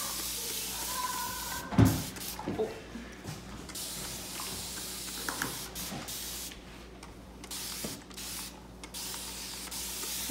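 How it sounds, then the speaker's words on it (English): Short bursts of hissing spray from a bottle spraying water onto hair, several squirts spaced irregularly, close up with faint handling noise between them. "Spray and get it really, really wet."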